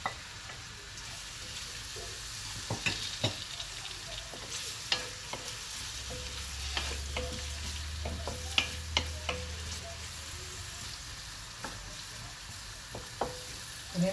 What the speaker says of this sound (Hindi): अनियन फ्राई करते हैं।